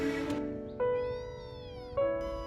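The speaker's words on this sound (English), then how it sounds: "a kitten crying for help somewhere in this quarry" A tiny abandoned kitten stuck in a crack under a stone in a quarry, giving several high, wavering meows in quick succession, thin and faint with short gaps between cries.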